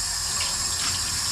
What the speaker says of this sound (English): I'm gonna put the kettle on and have a quick cuppa.